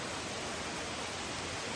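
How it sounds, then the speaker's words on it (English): Steady, dense rush of flowing water outdoors in nature, like a stream or small waterfall, continuous and even throughout with no voices. "the sound of water is the sound of life"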